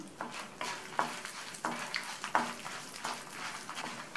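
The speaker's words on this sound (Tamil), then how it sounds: "இது கூட 4 பூண்டையும் சேர்த்து வதக்கிக்கலாம்" Lentils, dried red chillies and four garlic cloves fry in a pan, with repeated close spatula scrapes and stirring strokes over a soft sizzle, an irregular rhythm and no talking.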